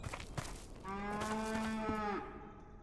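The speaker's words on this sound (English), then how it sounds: "You heard that too, right? Totally a cow." A cow lets out one long, drawn-out moo outdoors near a lawn, fairly clear at moderate distance, with no talk over it.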